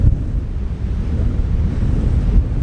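Strong wind gusts by the sea buffet a campsite, a loud continuous rumbling roar with wind buffeting the microphone and no voices heard.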